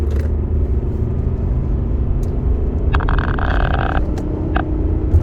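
A 2-litre diesel Volvo XC60 SE LUX pulling uphill toward 60, a continuous low cabin drone and road rumble with a brief higher whine midway, no talk.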